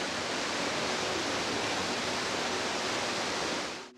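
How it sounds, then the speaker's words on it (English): Roaring waterfall at St Nectan's Glen in Cornwall, a thick, unbroken wash of falling water heard up close, cutting off abruptly at the end. "I'm going to try and say this over the noise of the waterfall"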